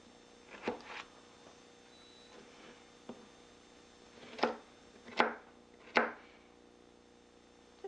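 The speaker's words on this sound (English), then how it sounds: "For the carrots, I prefer to cut them in little teeny pieces rather than slices" A knife cuts carrots into small pieces on a board, a handful of separate sharp chops spaced irregularly over a quiet background hum.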